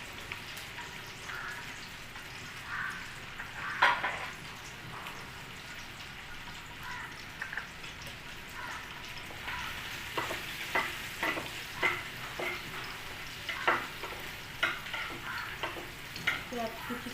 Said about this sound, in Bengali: একটুখানি পেঁয়াজ কুচি দিচ্ছি, আর এটাতে দেবো একটু রসুন কুচি